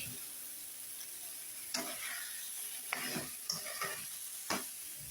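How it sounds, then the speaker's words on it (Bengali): Whole shell-on prawns land in frying spice masala, giving a soft steady sizzle broken by a few stirring scrapes and light taps, fairly quiet and close. "এখন আমি চিংড়ি মাছগুলো দিয়ে দেবো চিংড়ি মাছের একদম হাড্ডি গুড্ডি সহ দিয়ে দিলাম"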